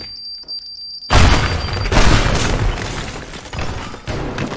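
A loud, sudden boom tears through destroyed structures in Teardown after a quiet start, followed by several seconds of heavy rumbling debris collapse and crashing that trails off gradually.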